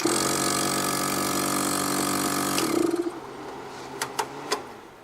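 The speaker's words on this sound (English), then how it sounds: "it will run this compressor" A small air compressor runs off a 12V 200Ah self-heating lithium battery through an inverter, giving a steady close motor drone that cuts off after under three seconds, followed by a few sharp clicks.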